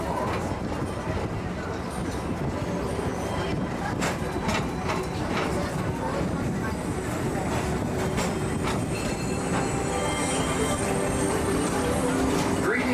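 The Magic Kingdom TTA PeopleMover ride vehicle at Walt Disney World runs along its track, giving a steady loud rumble with occasional wheel squeals and clicks while a recorded voice speaks over it.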